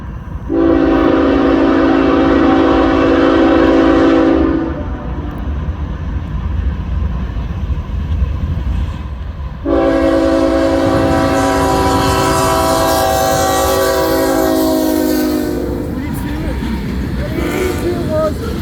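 CN freight train B790 with a rebuilt C6 locomotive hauling potash loads passes at Ladysmith, Wisconsin, sounding two long, loud chord horn blasts over a continuous rumble of rolling cars.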